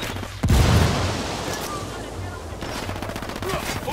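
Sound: gunfire from the video game Ghost Recon Wildlands

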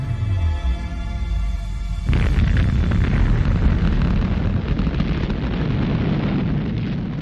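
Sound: atomic bomb explosion over Nagasaki

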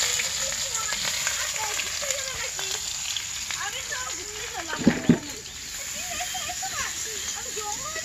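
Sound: dried chillies, cumin and chopped onion frying in oil

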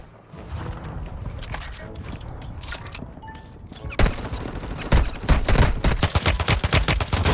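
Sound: friend's gun firing in video game Warzone Mobile

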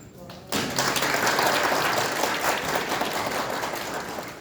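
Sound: audience applause

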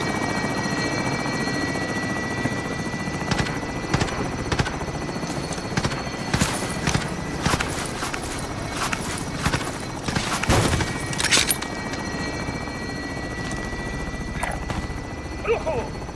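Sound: helicopter in video game Call of Duty Warzone

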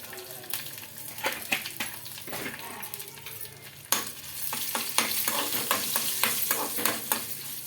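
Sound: frying dry red chillies, green chillies and turmeric

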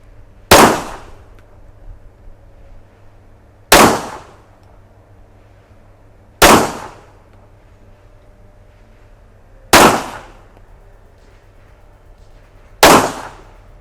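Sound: gunshots from a Glock 17 pistol, French Army model

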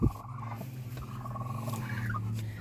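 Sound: small chick squealing

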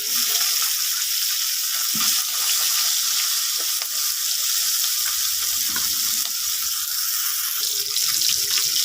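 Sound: koi fish frying in oil

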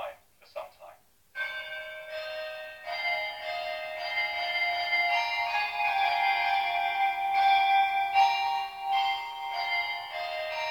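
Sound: midday chime of bells

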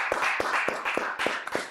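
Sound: applause, hands clapping

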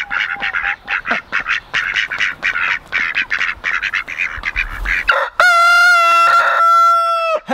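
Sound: rooster crowing

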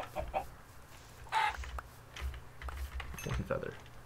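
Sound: chicken clucking in video game Minecraft

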